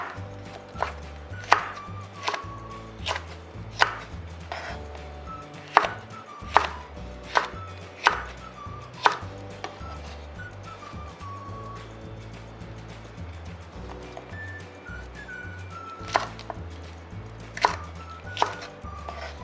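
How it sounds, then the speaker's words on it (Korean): Knife chopping two red chili peppers on a cutting board, a steady run of sharp, close taps and thwacks that come in quick bursts over a low, repeating background loop. "홍고추도 이렇게 어스어스 썰어 주셔요"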